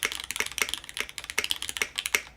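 Quick, crisp keystrokes clack steadily on a custom-built mechanical keyboard with swappable parts, close and clear in a quiet room.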